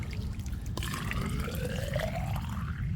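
Water surges up quickly through a short 2-inch pipe about 2 feet deep near ground level in a DIY plant watering setup, a steady gushing rush with a rising, filling tone throughout.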